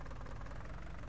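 Steady idling rumble of a tractor engine in the Farming Simulator 19 video game, a low even knocking drone that stays constant and fairly quiet, with no speech over it.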